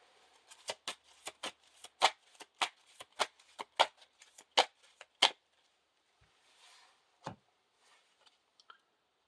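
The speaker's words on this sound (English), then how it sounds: "shuffle this back into the deck" Playing cards from a Lord of the Rings card game are riffled and snapped in a quick run of crisp clicks, then a few scattered taps as the deck settles, close and fairly quiet.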